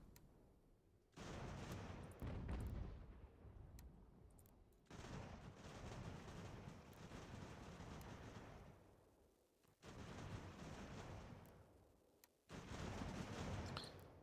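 Cannon fire and battlefield volleys in the strategy game Ultimate General: American Revolution come as several long, rumbling bursts of booming noise separated by short gaps, all quite faint and distant.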